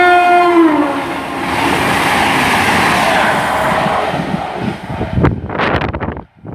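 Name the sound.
passenger train passing at speed, Penzance to Glasgow Central service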